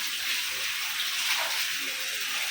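Water gushes steadily from a running tap, a loud, continuous broadband splashing rush that holds unbroken throughout with no voices over it.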